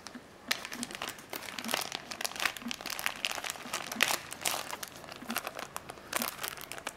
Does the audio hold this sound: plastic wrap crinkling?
yes